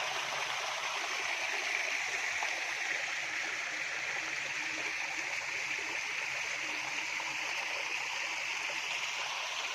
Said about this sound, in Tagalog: so yan yung sapa